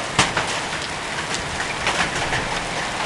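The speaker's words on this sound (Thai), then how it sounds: "ตอนนี้ฝนตกหนักมีทั้งลูกเห็บเม็ดเบลเลอร์" Heavy rain mixed with hail pounds down on a school's grounds during a hot-season storm: a dense, steady roar of close rain with scattered sharper impacts from falling hailstones, and no voices.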